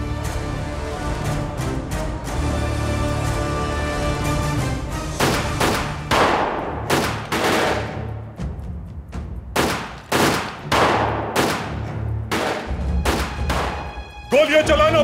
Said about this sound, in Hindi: गोलियां चलाना बंद करो।